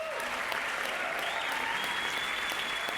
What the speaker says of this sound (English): Are we all applauding? I hear the applause.